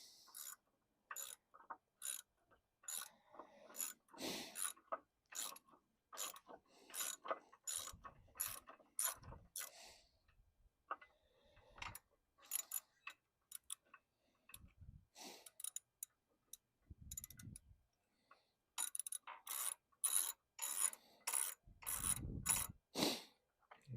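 Rapid ratchet clicking in repeated bursts as a bolt holding an anode is loosened on a Yamaha 150hp two-stroke outboard, close and loud with short pauses between strokes.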